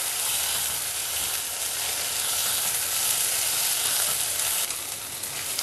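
Onions with ginger garlic paste fry in a small amount of oil, giving a steady, dense sizzle and crackle that stays loud and close throughout, with a slight drop near the end and no voices.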